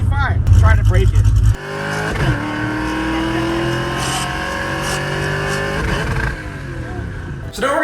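A 1967 Ford Mustang engine is revved hard and loud up close, with a roaring burst, a sudden cut, then a long sustained high-rpm scream that dips before another rev at the end.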